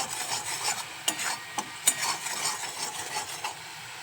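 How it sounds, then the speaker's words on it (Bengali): Chili being stirred into a thickening momo sauce in a pan, heard as a soft continuous rasping scrape with a few sharper utensil clicks, close and moderately quiet. "লঙ্কা দেওয়া হয়ে গেছে, এখন নেড়ে দিচ্ছি।"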